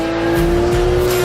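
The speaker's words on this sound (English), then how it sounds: "So if you put the foot down on the floor, you immediately get a response from the car." A Porsche 911 GT2 RS with PDK gearbox under hard acceleration: a loud, close, sustained engine roar with a steady high tone and rising surges, running alone without talk.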